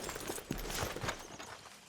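Horse hooves clop in the Red Dead Redemption 2 video game, a short run of close, steady steps over a constant background bed.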